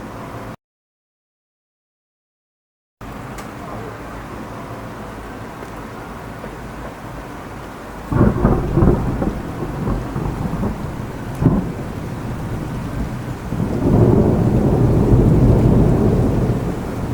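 Thunderstorm at night in Bordeaux: steady rain hisses throughout, and deep rolls of thunder swell in twice, loud and rumbling, after a brief silent gap near the start.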